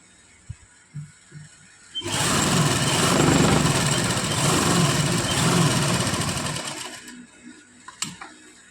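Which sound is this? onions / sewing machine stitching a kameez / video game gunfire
sewing machine stitching a kameez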